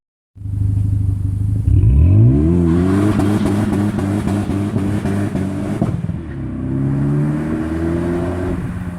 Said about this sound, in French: Ce véhicule fait beaucoup de bruit.